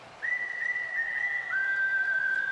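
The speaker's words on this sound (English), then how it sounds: "there's your whistle, you whistle enthusiasts" A spectator whistles in the crowd at a Cardinals vs. Angels baseball game after a called strike three: one long, steady, shrill tone that steps slightly higher partway through, held over a constant crowd murmur.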